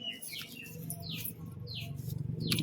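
Pigeons and their chicks make soft chirps and brief high calls close by, scattered over a low, steady cooing murmur. Faint flutters and rustles come through between the calls.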